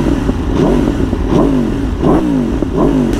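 An Aprilia RSV4 1100 Factory motorcycle's engine is blipped repeatedly, about five sharp revs rising and falling in a regular rhythm, loud and close with a raspy exhaust.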